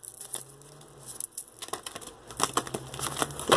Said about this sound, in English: Let me shuffle these better.